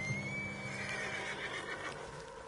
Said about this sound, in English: What's got this horse spooked, huh?